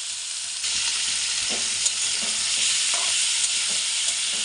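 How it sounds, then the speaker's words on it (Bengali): Small shrimp hit hot oil and fry with a loud, steady close sizzle that swells just after the start, with a few soft stirring taps beneath, no voices. "চিংড়ি মাছটা এখন ভাজা হবে"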